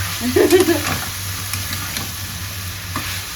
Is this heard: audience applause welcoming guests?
no